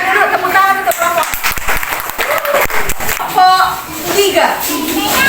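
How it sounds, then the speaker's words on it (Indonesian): Students in a classroom clap for a student group; dense, lively applause runs throughout, with children's voices chattering over the clapping. "silahkan dulu tepuk tangan untuk kelompok"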